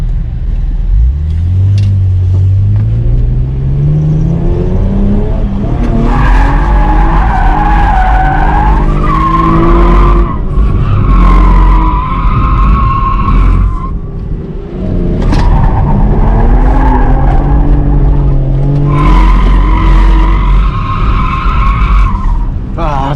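An automatic V6 Camaro drifts around a race track, its engine revving and tires squealing in long, wavering howls that rise and fall through repeated slides, loud and close throughout.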